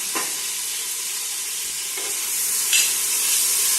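Tomatoes sautéing in a pan for chicken biryani give a steady, close sizzle with a few brief stirring scrapes, heard alone without talk.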